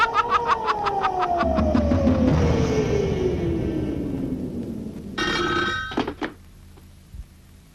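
An old telephone bell ringing in a rapid trill for a couple of seconds, followed by a long, falling tone and another short ring burst, loud and close with no talk.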